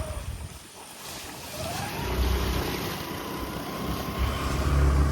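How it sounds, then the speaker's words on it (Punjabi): Rainwater flows across flooded crop fields after heavy rain in Punjab, a steady rushing wash with wind noise and a low rumble that grows slightly louder toward the end. "ਪਾਣੀ ਵਗਦਾ ਦੇਖੋ"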